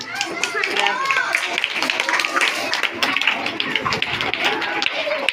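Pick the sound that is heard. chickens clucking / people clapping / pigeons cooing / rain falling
people clapping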